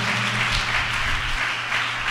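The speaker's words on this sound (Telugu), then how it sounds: "చప్పట్ల కొట్టండి గట్టిగా." Loud, steady applause from a church congregation during a Sunday worship service, sustained clapping filling the room for a couple of seconds with no voices over it.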